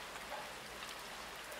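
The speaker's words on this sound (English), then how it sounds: "it's raining out today" Rain falls steadily outside, a faint, even hiss of drops that continues throughout.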